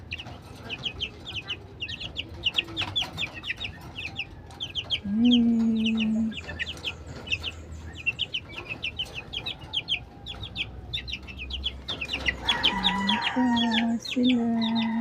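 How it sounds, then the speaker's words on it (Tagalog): A flock of chickens clucks and chatters steadily around a yard, with a louder close hen cluck breaking in twice over a bed of fainter background chirps. "Maraming manok dito."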